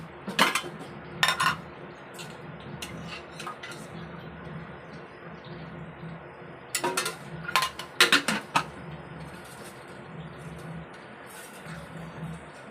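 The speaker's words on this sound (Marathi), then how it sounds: "तर आता आपण ह्या इडलीच्या भांड्याला तेल लावून देणार आहे" Metal idli steamer plates clatter and clink in short bursts as they are greased with oil, a few sharp metallic knocks separated by quieter handling and low background hum.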